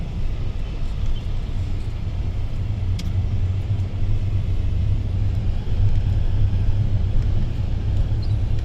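Steady rumbling car traffic in Baguio City, a continuous dense wash of engine and road noise with no break, moderately loud and fairly close.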